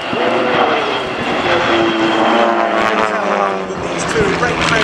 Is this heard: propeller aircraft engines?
yes